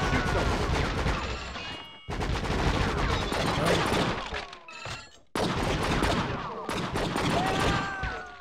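Rapid gunfire from the video game True Crime: Streets of LA, dense automatic bursts in three long volleys broken by short gaps, loud and close with ringing echoes and no talk.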